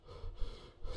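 Heavy breathing close against a microphone, slow swelling breaths with soft low rumble, loud and intimate, with no talking.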